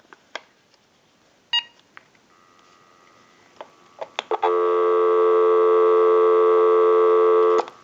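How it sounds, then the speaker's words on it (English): A few scattered clicks and beeps, then a steady, loud dial tone from an AT&T 5450 cordless telephone starts and holds unbroken for several seconds. "Go ahead and give you some dial tone."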